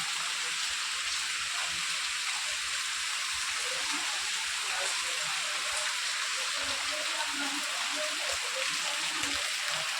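Heavy first-monsoon rain in the Konkan countryside pours down as a steady, dense hiss that fills the whole stretch without pause, close and fairly loud.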